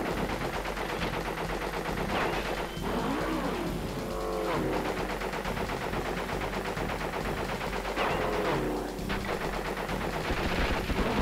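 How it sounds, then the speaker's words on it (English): Rapid gunfire from the video game Crash Bandicoot: Warped, dense automatic bursts running almost continuously under game music and effects, loud and close. "Stop firing at me, please."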